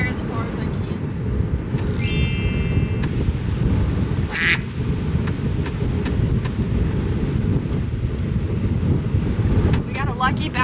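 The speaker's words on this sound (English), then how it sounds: "But this wind is just biting." Strong gusts roar across an open golf course, buffeting the microphone in a steady, loud rumble, with a few brief higher chirps and rattles cutting through near the start and end.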